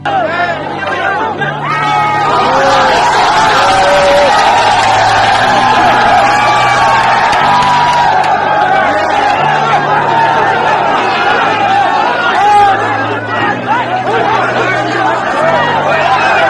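A large protest crowd in Jaipur chatters loudly and continuously, a dense babble of many voices with occasional shouts and whoops rising above it.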